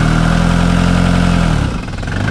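A nearby engine idles with a steady low rumble, running without knocking, then its tone drops and shifts near the end as it slows or changes speed.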